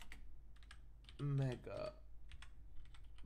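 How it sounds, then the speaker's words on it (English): Soft, close computer keyboard typing comes in short bursts of keystrokes, with a brief spoken word in the middle. "if I just type in Halo,"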